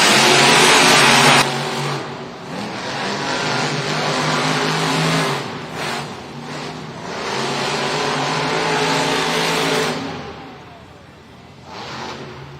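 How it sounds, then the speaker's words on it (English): Monster Jam monster trucks roar and rev in an indoor arena in Newark, loud engines surging and fading as they race, with a brief lull before revving climbs again. "Monster Jam trucks are fired up."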